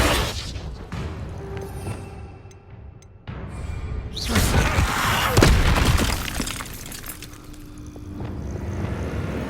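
Spell explosion from Bombarda cast in Hogwarts Legacy, a loud burst with crackling debris around the middle, amid busy combat effects and background music.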